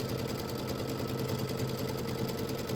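An embroidery machine sews a placement stitch on cream-colored fabric, a close, continuous mechanical whirring with fast even needle pulses throughout, without any voices.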